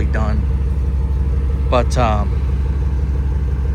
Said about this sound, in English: So the exhaust isn't too overly done